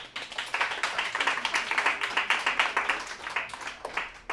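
A live comedy-show audience claps together in a steady burst of many hands, a dense, lively patter that holds at even loudness with no voices over it.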